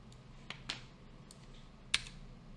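Keyboard shortcut keys being pressed in Visual Studio Code, a few sparse, crisp clicks spread over a couple of seconds, with a sharper keystroke near the end and no talk.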